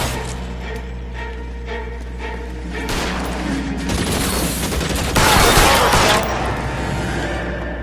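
Rapid video game gunfire from LA Noire crackles through a tense shootout, with bursts growing denser and louder toward the end under a steady background hum.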